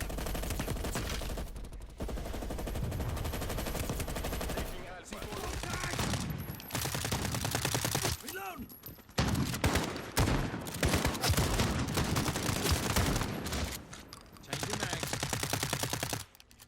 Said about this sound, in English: I feel like the gun sounds are an overall downgrade from Modern Warfare 2019.